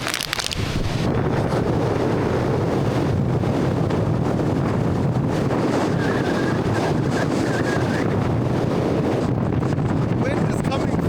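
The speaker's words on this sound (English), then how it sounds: "Wind is coming perfectly because it's blowing off the mountain and coming up." Strong wind blowing off a snowy mountain on a winter hike in Ontario, a loud continuous roar buffeting the microphone throughout, steady and close with no letup.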